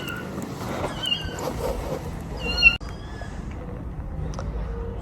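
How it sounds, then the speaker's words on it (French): A small cat meows a few times, short high cries standing out against faint background noise, with one sharp knock partway through. "il y a un autre petit chat aussi qui miaule"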